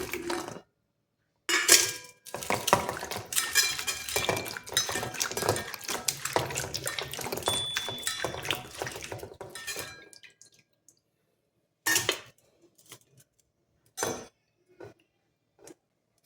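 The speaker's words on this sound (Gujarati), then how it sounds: "સૌથી પહેલાં આપણે સિંગને ધોઈ લેવાની છે।" Chopped drumstick pods washed in a metal bowl of water: sloshing, clinking and rattling against the vessel for about ten seconds, then a few separate clanks and drips after a pause, close and with no talk.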